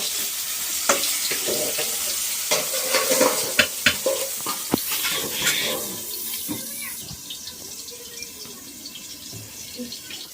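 Food sizzles in a pan on a gas stove, with clinks and scraping as it is stirred. The clatter fades and the sizzle settles to a softer, steady hiss.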